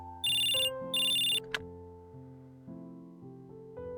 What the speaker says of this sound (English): You jumped at the sound of your phone ringing suddenly in your pocket